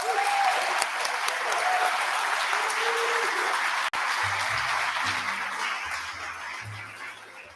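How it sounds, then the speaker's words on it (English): Awards-ceremony audience applauding the winners at the Social Enterprise Awards Scotland 2023, a dense, sustained clapping from a large crowd that carries on steadily before slowly thinning toward the end, with faint talk emerging underneath. "So I just want you to have a final round of applause for all the winners"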